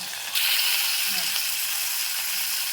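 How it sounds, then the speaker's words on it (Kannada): Drumsticks (nuggikai) sizzle steadily in hot oil, a continuous bright frying hiss that starts abruptly and holds close and even throughout, with no talking. "ಈಗ ಎಣ್ಣೆ ಒಳಗೆ ಫ್ರೈ ಮಾಡ್ಕೋಬೇಕು ರೀ"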